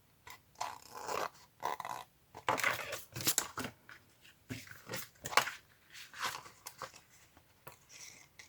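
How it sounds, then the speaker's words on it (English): Scissors cut through paper at a craft desk in a series of irregular, close, crisp snips and rustles, some louder than others, with short gaps between cuts. "I am going to cut it like so"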